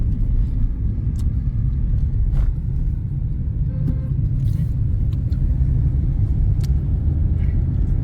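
A four-wheeler car driving along a road near Somnath, heard as a loud, continuous low engine and tyre rumble with faint intermittent rattles and clicks throughout.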